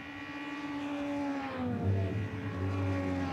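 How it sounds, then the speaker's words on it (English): Race car engines fire up in the pit lane during a Toyota Racing Series qualifying session at Taupo, a sustained droning roar with shifting tonal pitches as engines idle and rev, steady and fairly loud. "Some more engines firing up."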